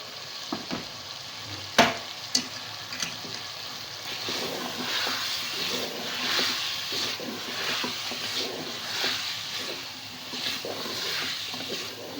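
Potatoes and carrots frying in a pan for a mixed vegetable sabzi, giving a steady close sizzle with scattered crackles and a few sharp knocks early on.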